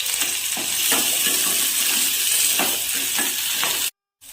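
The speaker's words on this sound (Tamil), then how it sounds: "எண்ணெய் ஊற்றி வதக்கிடுங்க. வெங்காயம் வதங்கி கருவேப்பிலை போடுங்க." Onions sautéing in oil with curry leaves for mutton kulambu, a continuous close sizzle with a few soft stirring scrapes, ending in a sudden brief silence, no voices.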